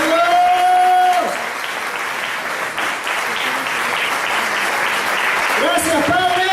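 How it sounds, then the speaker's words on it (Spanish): Sustained applause from a church congregation, dense clapping filling the room, with a voice speaking briefly in Spanish at the start and end over it. "Damos un aplauso a la palabra del Señor."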